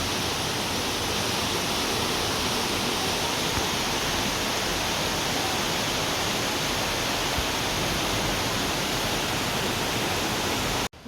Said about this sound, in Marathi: पाऊस अजून चालूच आहे